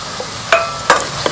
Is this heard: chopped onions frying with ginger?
yes